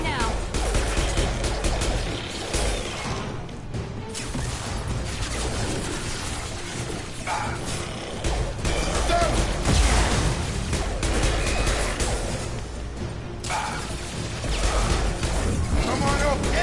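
Dense gunfire rattles through a firefight in Mass Effect 2, rapid bursts and impacts layered with loud action noise, continuous and close, with occasional voices mixed in.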